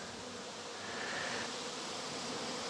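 Honeybees hum steadily around an open beehive as a beekeeper works on it, a dense, even buzz close by with no talking.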